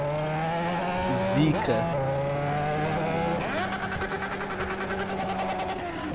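A Honda Hornet motorcycle mod in GTA revs hard with a buzzing engine note and a tire-squeal-like sweep, then bounces rapidly off the rev limiter in a fast stutter. Someone talks briefly over it.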